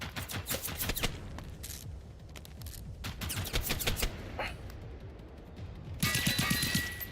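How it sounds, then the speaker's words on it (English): Rapid gunfire in the shooter Generation Zero: dense bursts of automatic fire and sharp single shots crack throughout, loud and close, with a heavier volley near the end. "there's a couple of shots that whizzed"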